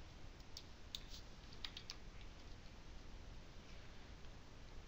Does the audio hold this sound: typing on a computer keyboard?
yes